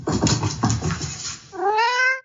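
A house cat gives a long, loud, close meow that rises into a drawn-out wailing cry, heard alone with no talking.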